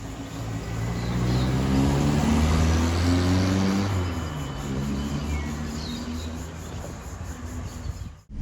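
A 1978 Volkswagen Passat LS driving in fourth gear, its engine giving a steady, close drone that swells slightly and then eases as it cruises, with faint outdoor ambience and no talking.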